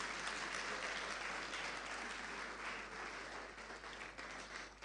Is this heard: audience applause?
yes